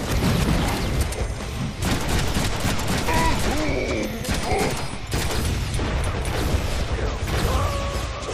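Rapid sustained automatic gunfire from a chain gun in the Deadpool video game, loud and continuous with bursts of explosions and crashes, game effects and brief voices mixed in.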